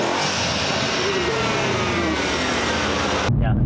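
Tuned 700hp Mercedes C63S coupe with intake work, its engine revving hard and loud up close in a rising, sustained pull before cutting off abruptly near the end.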